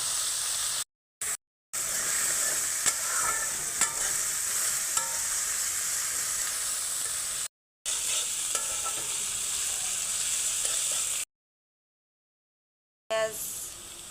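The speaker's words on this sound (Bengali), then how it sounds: "তেল গরম হয়ে গেছে, এখন আমি পেঁয়াজগুলো দিয়ে দেবো" Onions fry in hot oil with a loud, close sizzle and hiss, stirred now and then with scraping clicks, broken by several short silent gaps.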